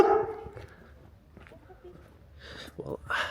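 A dog barks at a passerby on a city street in Campinas, Brazil, sharp barks breaking out at the start and again near the end, with someone talking between them over faint street noise.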